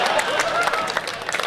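An audience claps together at a Hindi comedy show, a dense, loud, steady wash of applause filling the whole short stretch.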